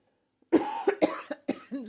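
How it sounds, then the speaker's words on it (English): A cluster of coughs, five or six harsh bursts in quick succession, close and fairly loud after a moment of silence. "I can go hours. I can go several hours and not cough at all"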